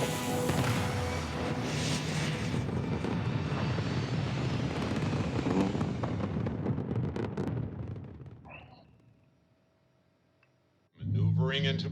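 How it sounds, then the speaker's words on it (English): Loud, dense roaring rumble of spaceship thrusters firing in the video game Starfield, sustained for about eight seconds before fading to near silence, then a sharp renewed burst at the end. "All thrusters firing."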